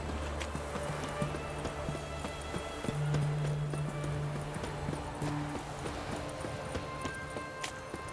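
Rhythmic clip-clop of horse hooves at a brisk pace in The Witcher 3 video game, with a short whinny-like tone partway through; no speech.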